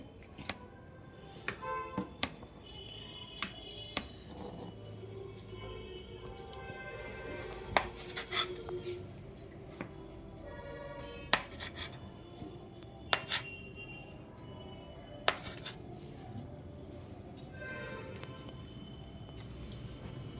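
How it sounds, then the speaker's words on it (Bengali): Knife cutting homemade peanut paneer into large pieces on a board, giving scattered sharp taps and clicks with quiet gaps between, close and alone. "এইভাবে আমি কেটে নিচ্ছি বড় বড় শেপ করে"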